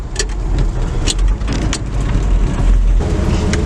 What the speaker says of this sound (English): 4th gear for gas mileage. We're cruising at 200 RPM.